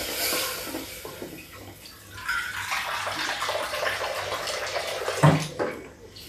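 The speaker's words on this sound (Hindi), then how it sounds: "अब इसको हम थोड़ा सा पानी डालेंगे" Water splashes and pours steadily into a pot of jackfruit curry gravy, a loose running gush with a brief clink near the end.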